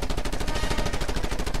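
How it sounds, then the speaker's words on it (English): A submachine gun in Just Cause 2 rattles off a rapid, steady burst of shots, loud and close, sustained for the whole moment with no talking. "Let's hook up the SMG and let them have it"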